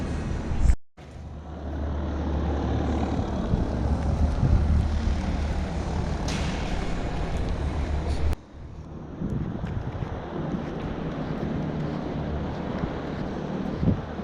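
A Hellcat fighter plane's engine gives a continuous loud roaring drone with wind buffeting, briefly cut off twice, then resuming.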